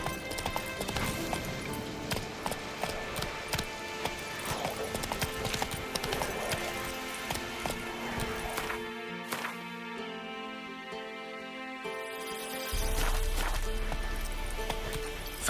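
Horse hooves gallop in The Witcher 3 video game, a steady rapid clip-clop rhythm under game music and ambience, then the hoofbeats fade as the scene shifts to a rumbling drone.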